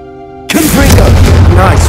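A Confringo fire spell blasts in the Hogwarts Legacy video game, a sudden loud boom that cuts off a sustained tone and rolls into a roaring fiery rumble, with a voice under the blast.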